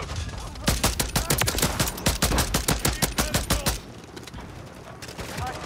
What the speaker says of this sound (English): It's like the gun shoots so slow.